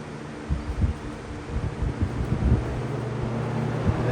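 A Lakewood P-223 and a Lasko Cool Colors box fan running together on high, a steady close whooshing hum with low motor tones and some buffeting thumps, growing slightly fuller toward the end.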